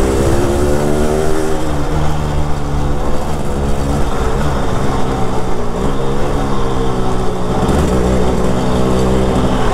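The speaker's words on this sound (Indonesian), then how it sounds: "harus digeber-geber nih, di blayer-blayer." A Yamaha RX King two-stroke motorcycle engine idles and blips loudly up close, with its buzzing pitch rising and falling through several throttle revs, and no voices over it.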